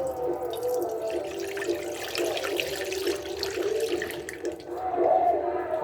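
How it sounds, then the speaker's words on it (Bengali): Milk pours into an unwashed kadai as a continuous liquid stream, splashing and gurgling nearby for several seconds and swelling louder near the end. "কড়াইটা ধুলাম না, ওর মধ্যেই দিয়ে দেবো দুধ।"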